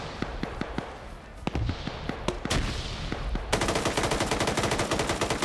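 Gunfire in a PvP shooter video game: scattered single shots crack for a few seconds, then a magazine is dumped in a fast, sustained burst of loud rapid fire.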